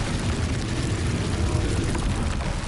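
Spell explosion from the Confringo curse in the Hogwarts Legacy video game, a loud, dense, continuous burst of rumbling blast noise filling the whole moment with no pause.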